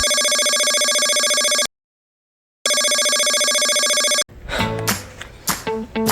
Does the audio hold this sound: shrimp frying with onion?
no